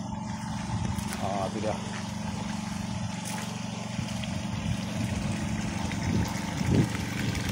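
Air compressor powering a DTH hammer rig drilling rock for a borehole well, a constant heavy mechanical drone throughout, with short bits of talk over it.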